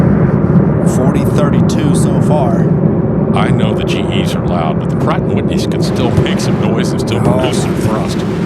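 MD-11 jet engines roaring at Louisville International Airport, a loud, continuous broadband rumble that holds steady throughout, heard up close near the ramp fence with faint voices under it.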